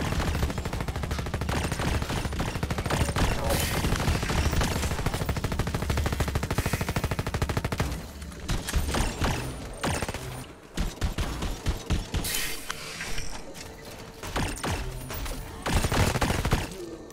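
Dense, sustained automatic gunfire in the video game Red Solstice 2, rapid overlapping bursts that thin into scattered shots partway through before swelling again.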